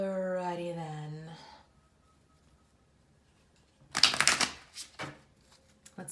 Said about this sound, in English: I'm shuffling right now.